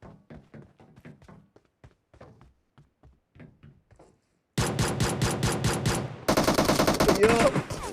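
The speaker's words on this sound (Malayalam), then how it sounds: "വെടിവെപ്പ് തുടങ്ങി." Gunfire in the mobile game PUBG Mobile: soft, scattered shots give way to loud, rapid bursts of automatic fire that continue steadily to the end.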